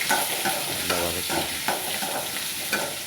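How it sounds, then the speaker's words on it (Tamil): Onions sauté in a pan with a continuous bright sizzle, while a spatula scrapes and stirs in quick close strokes, with no voices. "நல்லா வெங்காயத்தை வந்து நிறமாக வதக்கணும்"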